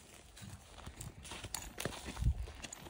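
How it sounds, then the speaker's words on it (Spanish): Horses being fed at a ranch shuffle and step about, soft scattered hoof clops and thuds, fairly quiet and close, with one stronger knock near the end. "el vaquero Mike aquí anda dándole comida a los caballos"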